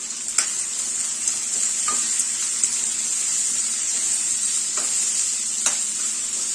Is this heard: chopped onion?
yes